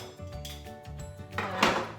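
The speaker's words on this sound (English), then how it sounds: "I'm going to put some of the utensils I use regularly into that drawer." Kitchen utensils clatter into a drawer during a kitchen drawer declutter, with several close knocks and rattles of metal and wood and a louder jangling clatter near the end.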